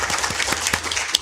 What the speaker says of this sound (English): yes, round of applause for you.